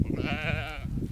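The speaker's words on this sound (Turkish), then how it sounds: "Kır geçisi." Grey goat bleating, a single wavering, nasal bleat of about half a second, close and clear over a rumbling background, with no talking.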